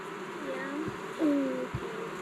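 Honey bees buzzing around an open Layens or long Langstroth hive while a heavy frame is lifted during inspection, a close, wavering hum with brief louder swells and a couple of soft knocks.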